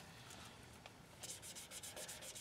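A resin brush handle is worked by hand with 320 grit sandpaper: a quiet rasping rub at first, then from midway a run of quick, evenly spaced back-and-forth strokes, close and steady, with no talking.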